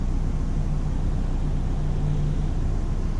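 Inside a 2005 Subaru Legacy GT, the engine and road make a steady, dense, low rumble with a faint droning hum, continuous and fairly loud with no talking.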